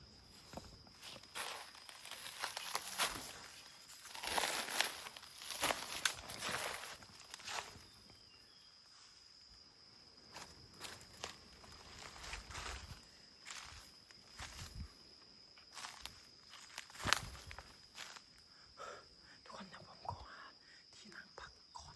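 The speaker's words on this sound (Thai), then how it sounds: "ใบไม้แห้งๆเดินลำบากนะ" Footsteps crunch through dry leaves on a steep bamboo slope, irregular and fairly close, with bursts of rustling between quieter pauses and no speech.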